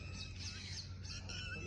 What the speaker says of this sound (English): Listen to the chirping of the birds